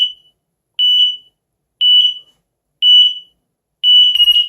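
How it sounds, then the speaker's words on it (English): An X-Sense interconnected combination smoke and carbon monoxide detector sounds its test alarm: loud, piercing high beeps repeating about once per second, five in a row, the last one broken up by rattling. "Now I push here for longer time and you should see the activated alarm also here."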